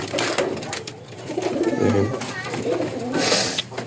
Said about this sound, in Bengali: এই জায়গায় একজোড়া গোল্লা কবুতর আছে, নটা ডাকতেছে